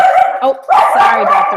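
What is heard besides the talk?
dog barking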